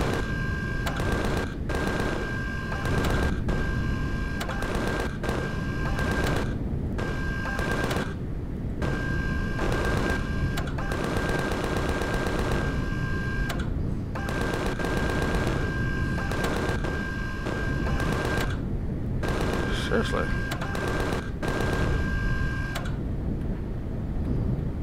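Sustained machine gun fire in an air combat video game, dense rapid bursts running almost continuously with brief gaps, loud and close, over a steady engine-like drone.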